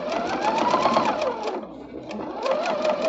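A sewing machine stitching quilt pieces, a fast steady rattle of the needle running continuously with a brief pause, close and clear.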